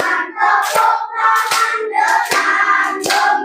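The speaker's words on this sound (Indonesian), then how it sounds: "Tepuk tangan dengan gembira" A group claps their hands happily during a primary school class activity, a loud, close burst of rhythmic clapping in several quick rounds with brief pauses between them.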